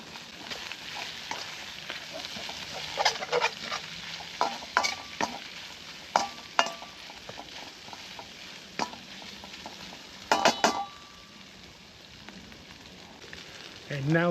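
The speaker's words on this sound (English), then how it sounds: "you can already hear that that wok's starting to get hot again" Spring onions stir-fry in a hot wok with a steady, close crackling sizzle, broken by sharp scraping strokes of the spatula against the metal.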